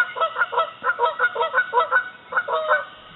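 A goose honks indoors in a room, a close, loud run of about a dozen rhythmic nasal honks in quick succession, pausing briefly before a few more.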